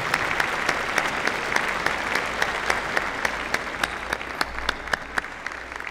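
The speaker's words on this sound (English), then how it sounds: "Will the graduating students please stand and join me in applauding your family and friends who have been there for you" Graduation ceremony audience applauding families and friends at a business school commencement, a dense, steady wash of clapping from a large crowd that holds throughout without talk.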